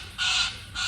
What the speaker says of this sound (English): loud birds